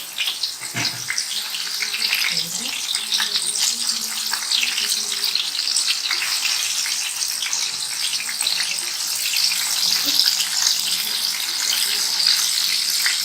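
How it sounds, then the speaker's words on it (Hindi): Tikka boti kababs fry in oil over a medium flame, giving a steady, dense sizzling hiss that stays close and even throughout, with a few soft clatters and faint speech in the background. "मीडियम फ्लेम पर हमने इनको फ्राई करना है"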